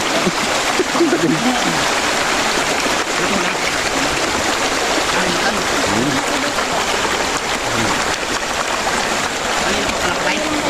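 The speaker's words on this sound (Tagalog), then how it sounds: "Yung tubig po na nanggagaling dito ay galing pong bundok na tinatawag na ano, bundok ng Tanay." Mountain water from Tanay, Rizal, flows in a steady, loud, close rush with splashing and trickling at a motocamping site, and faint voices sit under the constant flow.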